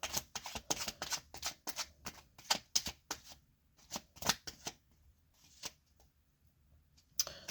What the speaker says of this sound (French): Oh, les cartes se mélangent.